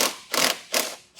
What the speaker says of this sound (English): I'm just going to use a 10mm socket